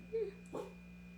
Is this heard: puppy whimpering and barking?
yes